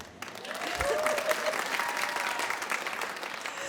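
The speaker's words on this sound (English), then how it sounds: "You can applaud." Stand-up comedy club audience breaks into sustained applause, a dense wash of clapping that swells and holds, with a few voices calling out beneath it.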